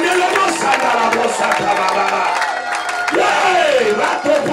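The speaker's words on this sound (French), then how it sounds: "Qui peut acclamer très fort?" A church congregation cheering loudly for the Holy Spirit, a roaring crowd with shouts, whoops and scattered clapping, dense and close throughout, with a rising voice cry near the end.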